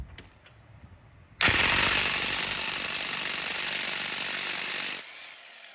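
Impact wrench hammering loose the front axle nut on a 2000 Subaru Impreza, a loud, close, continuous rattling burst lasting several seconds and then cutting off abruptly.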